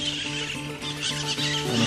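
An Arabian mare standing a little apart from a horse herd gives one close, loud, wavering neigh that lasts the whole moment, with no talk.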